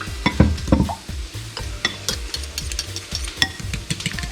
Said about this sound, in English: And give it a little mix.